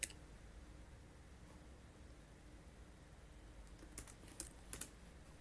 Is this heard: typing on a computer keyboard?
yes